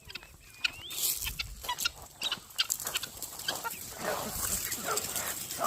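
Chickens cluck and squawk nearby in short bursts, with a dog barking now and then amid outdoor farmyard noise.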